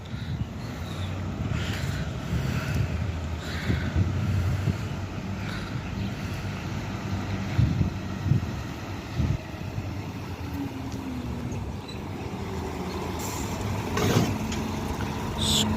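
A bus rolls into Wisbech bus station, its engine a low steady rumble at moderate distance over outdoor wind and ambient noise, with no talking.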